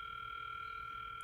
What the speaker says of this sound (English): So dialing